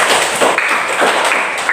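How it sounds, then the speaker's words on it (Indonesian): A group of students in a classroom clapping their hands together, a steady, continuous patter of many claps with a few rhythmic accents, loud and close. "Tepuk tangan dulu"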